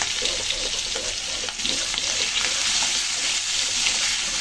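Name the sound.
taro pieces frying with onion and garlic paste in a pan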